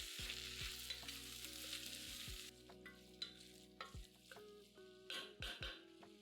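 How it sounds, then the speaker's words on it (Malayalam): Onion, green chilli and chopped tomato sautéing in a pan for a potato coconut milk curry, a steady sizzle at first, then repeated stirring scrapes and clinks of a utensil against the pan, close and fairly quiet. "സവാളയുടെ നിറം മാറാൻ തുടങ്ങുമ്പോൾ ഒരു മീഡിയം തക്കാളി അരിഞ്ഞത് ചേർത്ത് തക്കാളി വേകാൻ നന്നായിട്ട് വഴറ്റുക."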